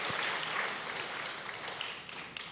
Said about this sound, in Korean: 우리 이분들에게 정말 잘하셨다고 우리 한번 박수 한번 하겠습니다